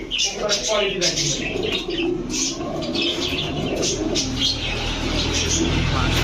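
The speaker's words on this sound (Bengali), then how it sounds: "পাকিস্তানি রামপুরি কবুতর" Pakistani Rampuri pigeons coo in a busy market, low rolling calls rising and falling amid a noisy crowd, with people talking over them.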